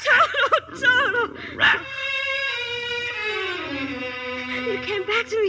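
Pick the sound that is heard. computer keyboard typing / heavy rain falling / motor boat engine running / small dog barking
small dog barking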